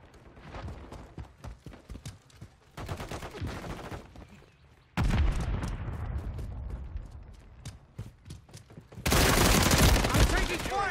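Video game gunfire in Call of Duty Modern Warfare III multiplayer: bursts of rapid shots and sharp reports come in uneven clusters, growing louder toward the end, with heavier blasts mixed in.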